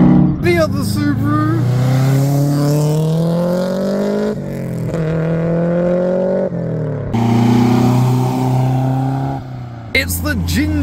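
A Subaru car drives past at a Japanese car meet, its engine revving loudly and climbing in pitch through gear changes as it passes close by, while people talk over it.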